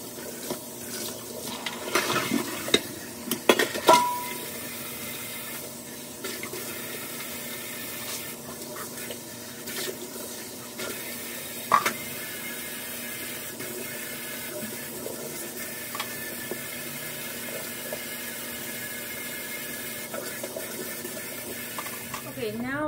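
Water runs from a tap into a kitchen sink while dishes are washed, a steady low splashing wash with occasional clinks and knocks of dishware, moderately near, and voice heard at times.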